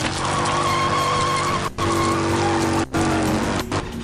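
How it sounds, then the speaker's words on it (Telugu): A motorbike engine revs hard and steadily while its rear tyre skids and squeals as a man holds the bike back with his hands, loud and close, with a few brief dips in the roar. "ఓ బైక్ను తన చేతులతో ఆపేందుకు సిద్ధపడుతున్నాడు."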